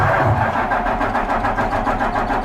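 A Cummins ISM diesel truck engine turns over and catches, a loud, dense rumble with rhythmic pulsing throughout, close by and with no voices.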